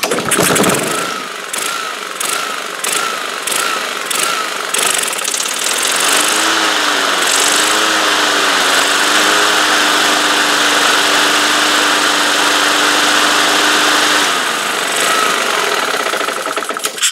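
A Honda HRX 217 lawn mower with a suspected air leak starts with rapid pull-cord rasps, then its engine catches and runs loud and close, the pitch wavering and hunting before settling briefly.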